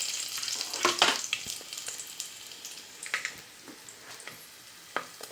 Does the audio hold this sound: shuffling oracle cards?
no